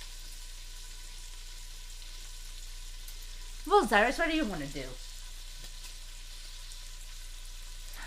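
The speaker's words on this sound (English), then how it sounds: "You can hear the bacon sizzling in the background." Bacon sizzles in a frying pan with a soft, steady hiss that runs under the whole stretch, while a voice speaks briefly partway through.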